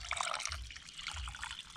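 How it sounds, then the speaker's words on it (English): Hot and cold water being mixed and poured for washing, a steady close splashing and trickling with small drips, continuous for a moment with no voices. "So we have to mix with this the cold water."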